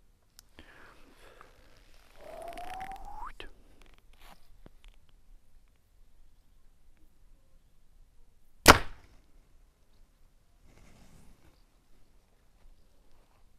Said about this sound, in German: Ich habe den Pfeil gehört, wie er vorne rein ist.